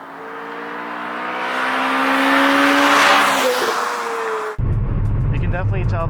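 A Toyota hot hatch engine revs hard under acceleration, its pitch rising steadily for about four seconds to a loud peak. An abrupt shift follows into a lower, steady drone.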